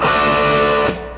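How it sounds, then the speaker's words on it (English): Electric guitar played on the neck pickup through an amplifier, ringing a loud, sustained chord with a second strum near the end before it fades slightly. "we can also switch to the neck pickup and get a nice tone"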